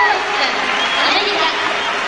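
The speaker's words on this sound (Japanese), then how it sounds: "さあ、大歓声が迎えます。" A figure-skating arena crowd roars and cheers as US skater Egon Lopez takes the ice, a loud, dense, sustained wash of noise with a commentator's voice partly mixed in.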